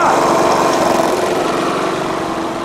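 Small portable generator in econo mode in a pickup truck bed, running as a steady close mid-pitched engine drone without any break, gradually easing slightly softer.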